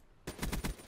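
Rapid bursts of automatic gunfire fired through a wall in Call of Duty: Black Ops 3 hardcore Kill Confirmed, a loud rhythmic string of about four or five close shots that cuts in suddenly after near silence.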